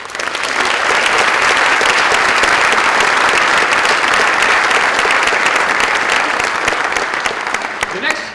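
Sustained audience applause at a graduation ceremony, loud and dense clapping from a large crowd that holds steady for several seconds before tapering off at the end.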